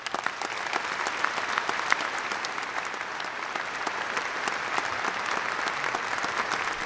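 Sustained applause from a large commencement audience honoring graduates at a spring undergraduate degree ceremony, a dense, steady wash of many hands clapping throughout with no talking.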